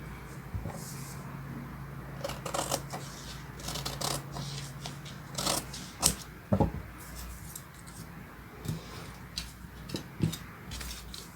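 Scissors cutting through a paper sewing pattern for a ruffled dress, a few crisp snips and paper rustles scattered across a quiet room, close by and without speech.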